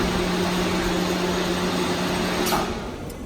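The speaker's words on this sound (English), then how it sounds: "what you're hearing there is the back gauge moving forward and then the correct finger popping up" Hydraulic panbrake folder (2500 mm x 4 mm, full hydraulic, two-axis e-Bend control) positioning its back gauge forward and raising a finger: a steady mechanical hum and whine with a brief clack near the end, then tailing off.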